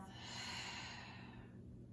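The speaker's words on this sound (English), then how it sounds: "Take a deep breath. Inhale through your nose and exhale out through your mouth." One slow, deep breath is drawn in through the nose and let out through the mouth during a yoga flow, soft and close, a long airy exhale that fades out.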